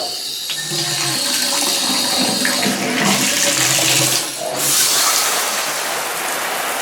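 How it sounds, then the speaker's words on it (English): Water running steadily from an older Price Pfister three-valve bathtub faucet that is not fully sealing, leaking out of the spout and up at the shower head, a continuous close splashing hiss with a brief dip midway. "It's not fully sealing off, so I've got water coming out here and up here at the shower head."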